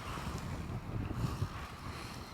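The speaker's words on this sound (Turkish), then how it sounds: "Rüzgar. Sert rüzgar." Strong wind buffets and rumbles across the microphone in gusty, uneven bursts, with no talking.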